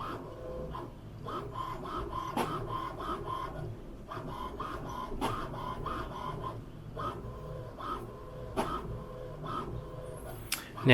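An HP Tango inkjet printer prints a page, giving a steady mechanical hum broken by repeated clicks and soft whirring carriage passes at a moderate, even rhythm, with no talking.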